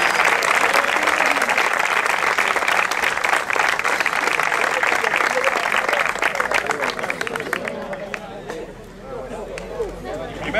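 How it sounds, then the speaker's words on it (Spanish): An audience applauds the second-place finisher at a 2015 youth promotional triathlon in Hinojosa, with dense steady clapping and crowd noise that thins out toward the end, leaving scattered claps and murmurs. "un fuerte aplauso para ella"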